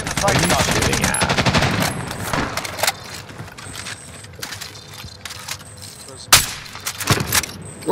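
Rapid automatic gunfire from a shooter video game opens loud and dense, bursts of fire that thin into sporadic shots and sharp cracks later, with game sound effects mixed in.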